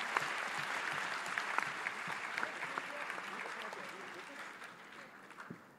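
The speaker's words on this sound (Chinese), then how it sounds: "也是给双方一个掌声。" An audience at a university debate final applauds both teams, a dense sustained clapping from a large crowd that fades slightly toward the end.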